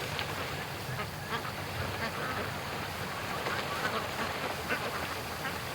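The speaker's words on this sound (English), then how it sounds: "There's a whack of ducks out in the open." A flock of ducks out on the open water of a lake quacks repeatedly at a moderate distance over steady outdoor ambience, and a few calls stand out above the rest.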